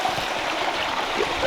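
A tiny waterfall trickles into a small pool along a hiking spot, giving a steady, close, continuous wash of running water with no pauses.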